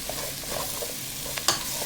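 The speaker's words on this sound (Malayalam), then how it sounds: "ഉള്ളി, കറിവേപ്പില, പച്ചമുളക് എല്ലാം ഇട്ട് കൊടുക്കുകയാണ്. ഇതെല്ലാം കൂടെ നന്നായിട്ടൊന്ന് വഴണ്ട് വരണം" Onions, curry leaves and green chillies sautéing in a pan for mutton roast, a steady close sizzle with soft stirring scrapes and one sharper clink of the spoon near the end, no voices.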